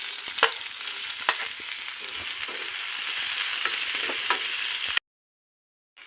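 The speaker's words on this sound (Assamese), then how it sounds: "এতিয়া মই সৰুকৈ কটা পিঁয়াজখিনি দি দিম তেলত।" Finely chopped onion fries in hot oil in a kadai for matar paneer, making a close, steady crackling sizzle broken by sharp spatula scrapes. The sound stops abruptly and a short silence follows, with no talk.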